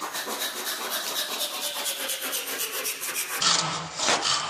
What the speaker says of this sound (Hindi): तो आरी ब्लेड से काट देंगे।